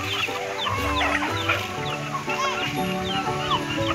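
Chickens clucking busily on a rural farm in the province, several birds overlapping in short, close, repeated calls with no talking.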